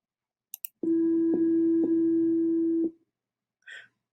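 A program plays a pure electronic tone at middle E for two beats, steady with slight clicks at each beat, preceded by a couple of short clicks and followed by a brief faint noise.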